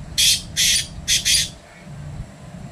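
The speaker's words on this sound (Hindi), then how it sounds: "ये काला तितर है" A caged black partridge gives four harsh, loud calls close by, in two quick pairs, followed by quiet background.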